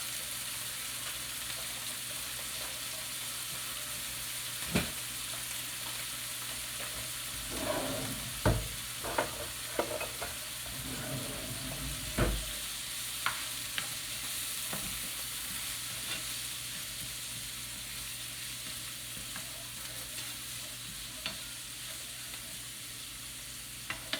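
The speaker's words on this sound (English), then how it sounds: "We're going to get that sauteed up" Vegetables being sautéed in a pan with salt and pepper, a steady soft sizzle running throughout with scattered sharper clicks and scrapes of stirring near the middle, no voices.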